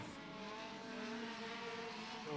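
Legend race cars run hot laps at Beckley Motor Speedway, a sustained engine whine with rising and falling pitch as cars pass, moderately loud and continuous, with no talk.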